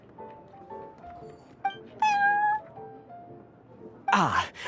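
A cat in the video game Genshin Impact meows several times inside a shop, short tonal mews rising into a louder drawn-out cry, then a sharp harsh yowl at the end, close and clear.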